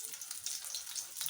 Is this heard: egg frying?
yes